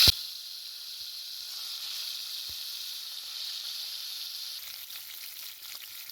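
Tilapia fish frying in hot oil, a steady bright hiss that holds evenly after a sharp initial clatter, with faint scattered crackles near the end and no talking.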